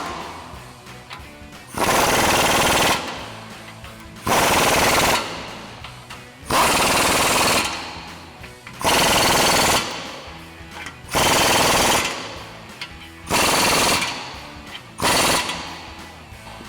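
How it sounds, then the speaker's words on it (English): Impact wrench driving 22mm bolts on the upper control arms of an F-150, loud hammering bursts of about two seconds each repeating seven times with short pauses between, close up and without talk. "Now we'll go ahead and tighten all these down again with our 22mm socket on our impact."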